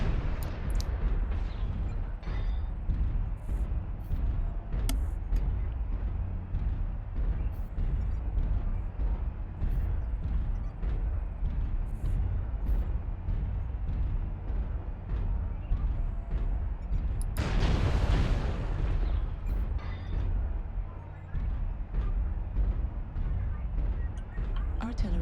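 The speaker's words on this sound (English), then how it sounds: "artillery strike activated." Artillery strike explosions from the MechWarrior video game rumble on as a dense, continuous stream of booms and bursts, loud and close, with one especially heavy blast swelling about two-thirds of the way through.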